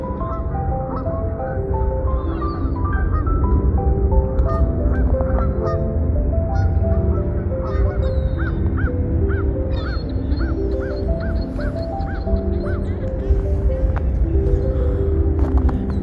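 Geese honk repeatedly and loudly close by in snowy New York, a continuous chorus of overlapping honks over a low rumbling background, with no talking.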